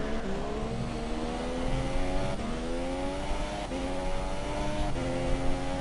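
An F3 race car in a racing video game screams at high revs, its engine pitch climbing through each gear with repeated upshifts, loud and continuous without talk.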